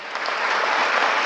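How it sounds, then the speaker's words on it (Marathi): Audience applause at a Marathi motivational talk, a short burst of dense, steady clapping from a crowd, fairly loud and without speech. "म्हणून एकदा जोरदार टाळ्या होत्या आपल्या मायबापासाठी"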